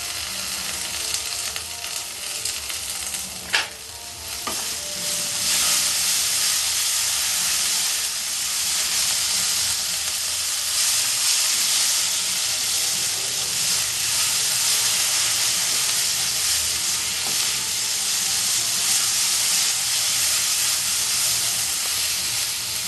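Cumin paste hits hot oil in a pan for a Bengali egg curry, with a sharp initial crackle followed by a loud, sustained sizzle and steamy hiss close by.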